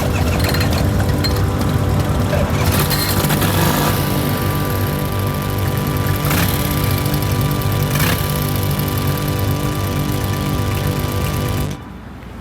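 A 1940s Harley-Davidson motorcycle engine with a 4-speed tank shift runs steadily after being kickstarted, a loud, close, throbbing idle with a rapid rhythmic pulse that cuts out abruptly near the end.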